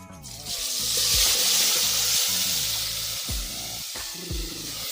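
Chillies hit hot oil with a loud, steady sizzle that swells quickly and holds, while a stirring utensil clinks and scrapes in short knocks underneath.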